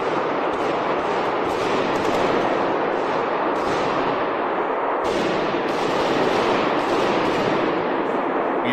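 Rapid automatic gunfire crackles through a loud, continuous roar during an attack in Moscow, with sharp shots cutting in repeatedly; nothing else stands out.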